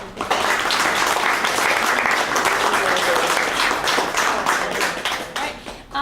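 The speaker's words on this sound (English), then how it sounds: "So I want to just give them another round of applause" An audience gives sustained applause for high school contest winners at a history talk, dense, close clapping that swells early and holds steady before tapering near the end.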